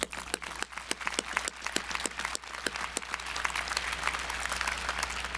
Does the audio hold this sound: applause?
yes